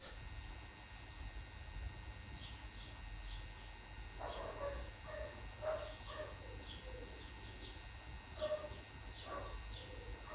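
Faint birdsong with scattered chirps and short calls over a steady low background hum, distant and quiet throughout.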